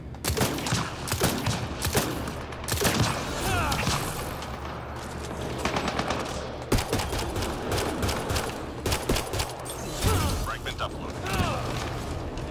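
Scattered gunfire in Mass Effect Andromeda online multiplayer, many quick shots and short bursts over a busy bed of game noise, with a player talking through much of it.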